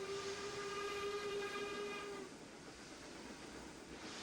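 A steam locomotive whistle sounds one sustained tonal blast for about two seconds, heard at a distance over a steady rumble of the engine and railway.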